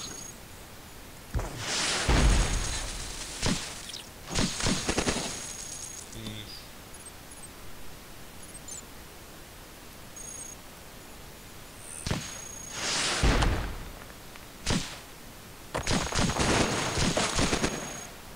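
Heavy missile launcher fire in the robot roguelike Cogmind, several separate loud broadband blasts in clusters with quieter gaps between, no talking.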